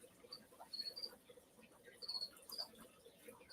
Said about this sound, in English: Can you really hear those crickets?